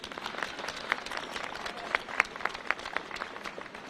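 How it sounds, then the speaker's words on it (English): Steady applause from an audience, a dense patter of many hands clapping with a few sharper claps standing out, continuing without a break. "Give them a big round of applause."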